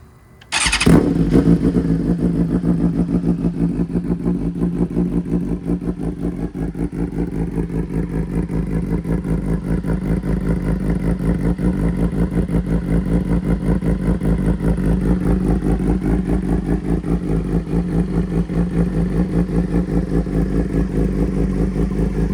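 After a brief starter whine, a sport motorcycle engine (S1K or Panigale V4) fires up and settles into a loud, steady, pulsing idle that continues throughout.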